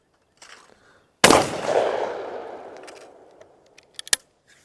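A single loud shotgun blast fired at a clay target outdoors, a sharp crack followed by a long rolling echo that fades over a couple of seconds, with a few faint clicks after.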